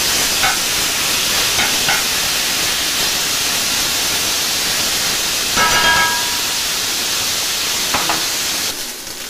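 A hamburger patty sizzles and hisses in a frying pan, a steady, moderately loud crackle that continues without pause.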